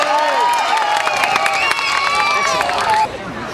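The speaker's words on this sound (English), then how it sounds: "A huge round of applause, clapping," An audience at the GoFree show erupts in loud applause, clapping, cheering, screaming and shrill whistles, one continuous roar that drops off abruptly near the end.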